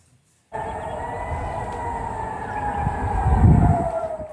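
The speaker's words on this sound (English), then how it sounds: "That is a look at Haifa in northern Israel as air raid sirens go off earlier this morning." An air raid siren in Haifa, northern Israel, wails steadily and loudly after a brief silence, its tone slowly sliding, with a low rumble swelling near the end.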